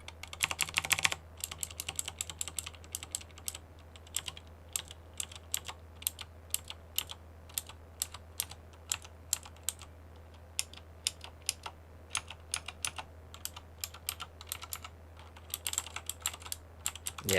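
Someone types on a mechanical keyboard with clicky Cherry MX Blue switches, making sharp, crisp clicks in quick irregular bursts close by in a quiet room, with a denser flurry at the start.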